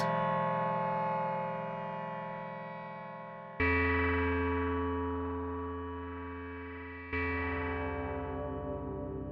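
Ableton Drift synth playing square-wave FM tones: three sustained, buzzy, bright notes, each struck sharply and slowly decaying, the second and third entering at roughly even intervals with shifting metallic overtones.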